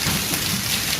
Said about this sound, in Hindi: बारिश शुरू हो गई है और कड़ाकेदार बारिश हो रही है।